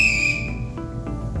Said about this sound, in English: blow into the provided safety whistle